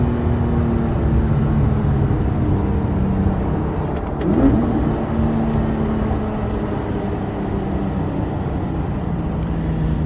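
A Porsche 997.2 GT3 RS drives along with a steady engine drone, easing back at one moment before picking up again, heard from close by and without any voices.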